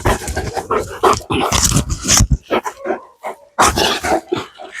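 Dog at a kennel barking in loud, rapid bursts with yips and whimpers, close by, with brief pauses between volleys.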